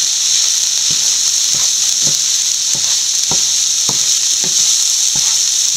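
Spinach thoran, with onion and stems, frying in a hot pan under a constant loud hiss and sizzle, while soft stirring taps come roughly every half second.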